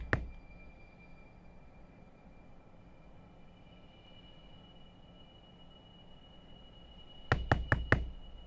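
A quick burst of four sharp knocks on a door comes near the end, close and loud, after a long stretch of steady low background hum with a faint high whine.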